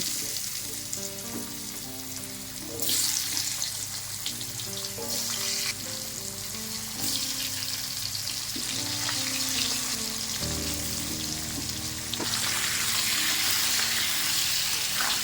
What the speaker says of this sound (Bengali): এই তেলে আলু আর ফুলকপি দিয়ে ভেজে নেব